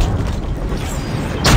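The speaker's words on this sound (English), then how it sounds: "Hostile predator missile inbound." A predator missile blast in Call of Duty on the Shipment map, a heavy low rumbling boom rolling steadily, then a sharper burst of noise near the end.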